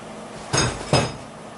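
Two sharp metallic clunks about half a second apart as a regular conventionally shouldered rifle barrel is dropped and seated into the action, close and fairly loud in a quiet room.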